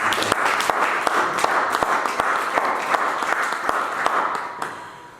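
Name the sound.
congregation applauding in church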